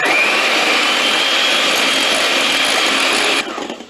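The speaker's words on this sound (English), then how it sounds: "Feel free to turn this hand mixer on." An electric hand mixer whips a coffee mixture toward soft peaks, a steady loud high-pitched whir running continuously before cutting off abruptly near the end, with no talking.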